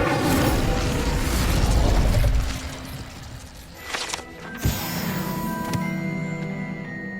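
The Incendio fire spell goes off in Hogwarts Legacy with a dense roaring whoosh of flame, which fades and is followed by a few sharp pops and mechanical clicks of the game world. No one speaks.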